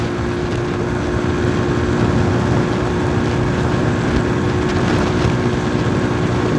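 A Falcon Freedom 250 motorcycle runs at high revs on the road, a loud, constant engine drone mixed with heavy wind rush throughout, with no talk.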